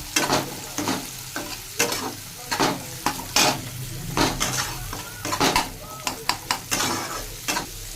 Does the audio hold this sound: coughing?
no